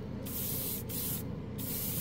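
Close airbrush spraying gold paint over red in two long hissing bursts separated by short gaps, steady and breathy over a faint low drone.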